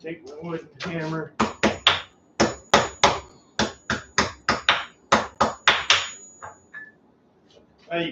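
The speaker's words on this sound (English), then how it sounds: "take my wooden hammer." Wooden hammer tapping an offset metal wheat-twist piece clamped in a vise: a short burst of speech, then about fifteen crisp, ringing knocks in a quick, slightly uneven rhythm, close and loud, each dying away quickly.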